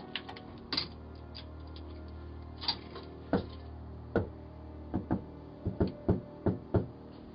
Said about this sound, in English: a middle-aged woman approach a random home at 1 a.m. and begins knocking